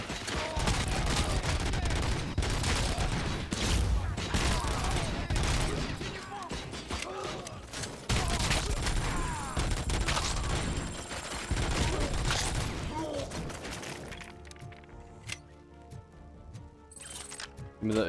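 G3 rifle gunfire in the Robocop: Rogue City video game, dense repeated shots and bursts with mechanical clatter over a busy combat soundscape, thinning out near the end into quieter game sounds.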